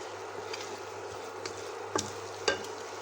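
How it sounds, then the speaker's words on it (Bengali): Slit green chillies fry in hot oil with a few cloves of whole garlic, a steady close sizzle with a couple of sharp clinks of stirring near the end. "এবার দিয়ে দিচ্ছি কিছু কাঁচা লঙ্কা চেরা"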